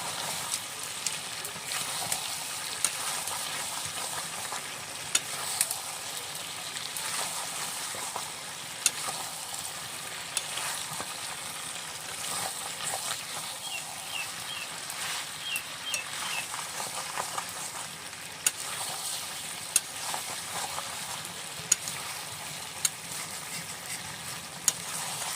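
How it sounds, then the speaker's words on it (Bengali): Oil crackling under simmering meat curry in a pot, a soft continuous sizzle with scattered small pops and faint ticks, fairly quiet and steady over a long stretch. "নিচে তেল চটচট করছে"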